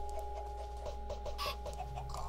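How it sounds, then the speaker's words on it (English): Minecraft chickens cluck in a steady run of short, soft, rhythmic calls over a constant low hum, with no talking. "Yay, baby chickens! Chickens are always good to have."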